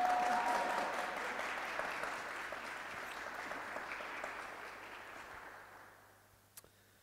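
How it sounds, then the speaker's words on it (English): Wedding guests in a church burst into applause and cheering right after the couple is pronounced married, a dense wash of clapping that gradually thins and fades toward the end, with a few isolated claps at the close. "At this point, we can all cheer and go mad."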